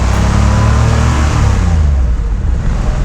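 A Porsche 911 3.2 Carrera engine drones loudly while driving in third gear, a steady close-up rumble that eases off slightly toward the end.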